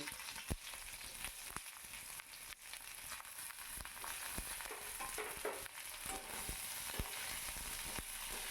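Onion frying with panch phoron in a wok, a soft, steady sizzle with scattered crackles and occasional scrape-like knocks, fairly quiet and close, no talking.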